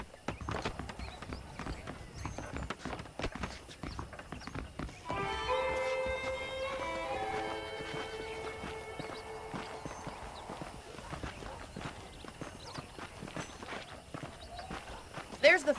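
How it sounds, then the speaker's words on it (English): Horse hooves clip-clop in a steady walking rhythm in the Red Dead Redemption video game, fairly quiet and continuous near a saddled horse, with a brief musical passage partway through. "The horses are saddled up over here."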